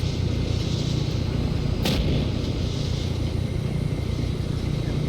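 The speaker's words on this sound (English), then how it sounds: "And then you've got the artillery." Artillery in Arma 3 rumbling under a steady low drone, with one sharp blast cracking out near the two-second mark before the din settles back.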